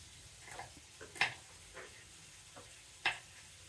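Pav fries in a pan at breakfast time, a faint steady sizzle broken by a few soft scrapes and taps from turning it.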